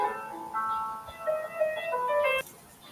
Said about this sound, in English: I love For Elise. It's a very good classic piano song.